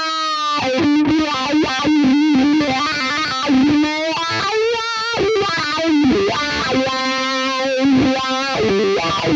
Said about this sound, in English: these are the wah-wah sounds in the AxeFx2.